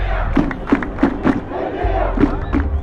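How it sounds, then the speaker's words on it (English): A crowd of protesters in Sudan chants slogans during street demonstrations, loud rhythmic shouted bursts in unison with crowd noise underneath, close and energetic. "Crowds chanted slogans from the Arab Spring revolutions of 2011."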